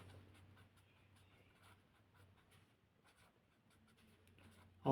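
Hand writing a chemistry calculation on paper, a soft, steady scratch of pen strokes close by, faint and continuous with brief pauses.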